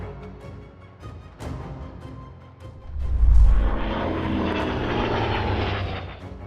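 Airplane just after takeoff from Marina Municipal Airport in Marina, California, moments before crashing into terrain; a droning engine swells loudly midway, then holds a sustained roar.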